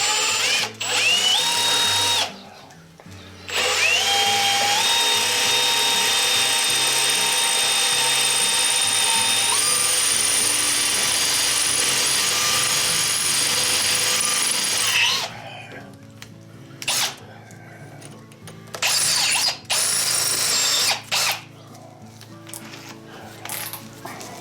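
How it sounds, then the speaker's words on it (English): A power drill whines steadily at high speed for several seconds, pitch shifting as it bites through, then stops abruptly as the bit breaks, followed by scattered clunks and short bursts. "it went through all right and just kept on going, broke the drill"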